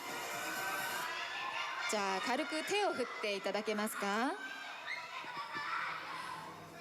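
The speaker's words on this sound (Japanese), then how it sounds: "わあこの歓声いかがですかね" Fans cheer and shout at a Demon Slayer Infinity Castle red-carpet photo wall event with two voice actors. The crowd's roar fills the opening and closing seconds while a voice talks through the middle.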